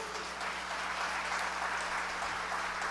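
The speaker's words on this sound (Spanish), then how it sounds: "denle un aplauso al Señor" Applause from a church congregation at a service on prophetic declarations: a continuous wash of clapping, moderately loud and even, with a faint steady hum beneath it.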